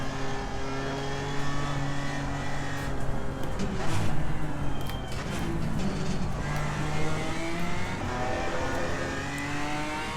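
A BMW race car engine in the racing game Assetto Corsa Competizione drones steadily through a fourth-gear corner, its tone rising and falling slightly with throttle, continuous and fairly loud with no talking.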